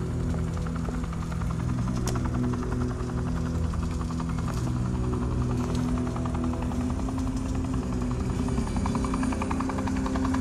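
A steady helicopter drone with low rotor hum holds constant throughout, loud and continuous, with faint sharp clicks scattered above it, from the video game Batman: The Enemy Within.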